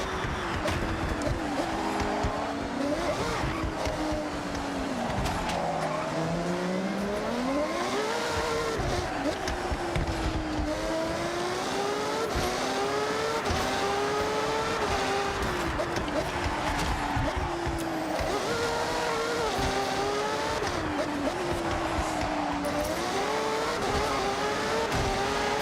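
Lexus LFA and other race cars in Forza Horizon 6 roar continuously, engines revving and shifting pitch through gear changes, with tire squeal and a voice talking over the racing throughout.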